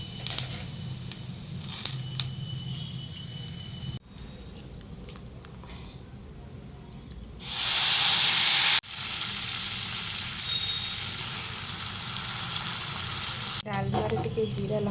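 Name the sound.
ghee, chili and cumin sizzling while tempering dalma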